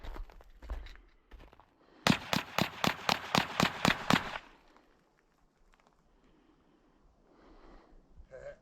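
Rossi RS22 .22 semi-automatic rifle fires a rapid string of about nine sharp, evenly spaced cracks, then the scene falls quiet apart from faint background noise.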